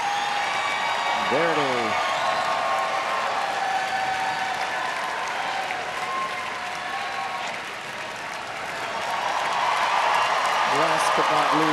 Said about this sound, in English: this guy's getting a lot of applause tonight. Beautiful. The crowd is just cheering it on.